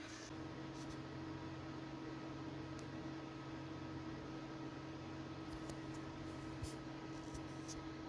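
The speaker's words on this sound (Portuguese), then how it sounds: "Não tem nenhum ventilador ligado. Esse é só o computador mesmo" A desktop computer with a tower air cooler runs under load with no room fans on, giving a faint, steady whirring hum with a low electrical drone that never changes, and no talking.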